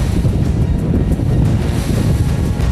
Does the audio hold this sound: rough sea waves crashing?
yes